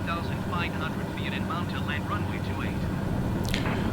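A propeller aircraft engine in Microsoft Flight Simulator 2020, flying over Kenya toward the Masai Mara, drones loudly and steadily throughout while someone talks over it.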